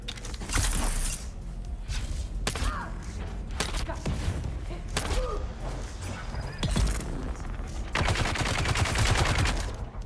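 Enemy gunners firing in Dune Awakening, heard as sharp repeated gunshot cracks and rapid bursts of fire over constant in-game rumble and thuds, loud and close.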